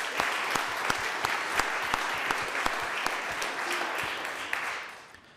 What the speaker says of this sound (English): I ask you to give a warm applause to all these people of the network.